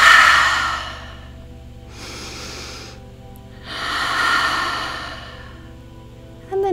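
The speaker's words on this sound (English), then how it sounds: "lift the shoulders up and breathe out through the mouth" Slow, audible exhales through the mouth during a seated chair-yoga exercise, three long breaths with soft pauses between them, close and clear with no talking.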